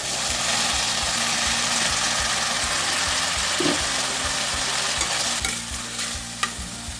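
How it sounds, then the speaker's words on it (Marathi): Tomatoes go into a pan of onions and asafoetida and are sautéed, giving a loud, continuous sizzle with a spatula scraping steadily close by and a couple of sharper knocks toward the end. "परत त्याला परतून घ्यायचे आता यामध्येच टोमॅटो टाकून घ्यायचे"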